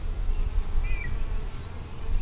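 Honey bees buzzing at a small new hive split holding few bees, a steady low drone close by, with a brief faint chirp partway through.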